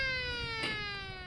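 A siren on a ranch feed truck wails steadily to call cattle, a sustained tone with rich overtones, fairly faint and slowly falling, with a brief burst of noise in the middle.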